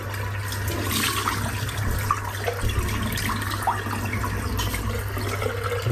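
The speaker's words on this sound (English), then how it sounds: "just a little splash of warm water, just to rinse off the soap" Warm water splashes and runs at a bathroom sink, rinsing shaving soap off a face after a wet shave, a continuous close, hissing wash with small splashy bursts.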